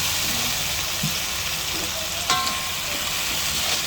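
Vegetables and tomato sizzling in a hot pan, a steady crackling hiss throughout with a brief stirring clatter midway, close and fairly loud.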